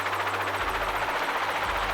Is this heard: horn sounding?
no